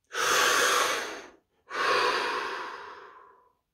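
A single deep breath taken close by: a long, airy inhale, a brief pause, then a slow exhale that gradually fades. No other sounds are present.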